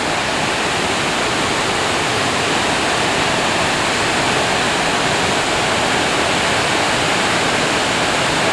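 Burney Falls, a 129-foot waterfall in California, roars steadily and loudly into its pool, a dense continuous rush of falling water with no pauses or voices.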